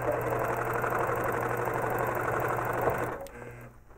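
An APQS longarm quilting machine runs steadily while tying a quilt, a loud continuous rapid mechanical whir with a low hum, then stopping abruptly near the end.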